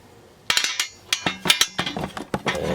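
A metal 11/16 wrench is lifted from a metal wrench rack, giving a quick series of sharp clinks and rattles close by, with no talking.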